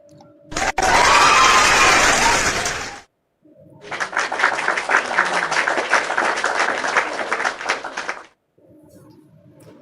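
An audience applauds during a spoken testimony in Togo, in two long, loud bursts of dense clapping separated by a brief pause.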